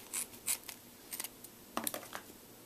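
Scissors snipping duct tape while making a wallet: several short, crisp cuts in irregular bursts, close and fairly quiet, with brief pauses between snips.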